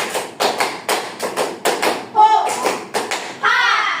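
A sixth-grade class performs the rhythmic "tepuk semangat" clapping cheer, with sharp group claps in a regular beat followed by quick bursts, and children's voices shouting between the claps.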